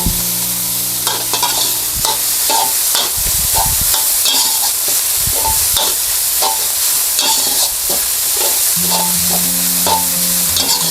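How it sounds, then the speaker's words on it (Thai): Thai curry paste stir-fries in a little oil in a pan, giving a loud, steady sizzle broken by repeated scraping strokes of the spatula. No one speaks. "ให้เราผัดเครื่องแกงเรานะ ให้มีกลิ่นหอมก่อนค่ะ"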